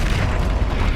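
A Confringo blast from Hogwarts Legacy gives a short, dense, booming burst that fills the moment, loud and close with no gap.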